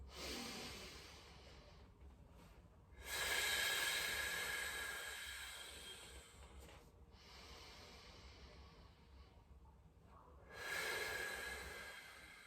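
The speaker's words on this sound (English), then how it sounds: "And then as you breathe in, really drive it up." Slow, deep breaths during a calming breathing exercise, several long airy inhales and exhales rising and falling in a regular cycle, close and fairly quiet.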